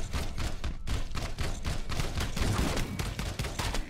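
Rapid gunfire from the video game Pixel Privateers, dense volleys of loud shots firing almost continuously over about four seconds with only a brief pause near the start.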